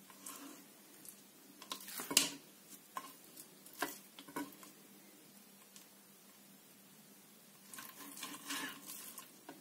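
A knife cuts fish into strips on foil in a home kitchen, producing faint, close scraping taps and crinkles scattered irregularly over a quiet background.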